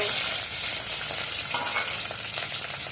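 Hot oil sizzles and crackles steadily as mustard seeds and curry leaves hit the pan, a bright hissing fry heard up close with no talking.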